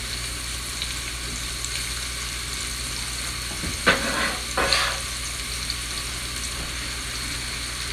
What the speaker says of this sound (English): Okay, now we're adding the mushrooms.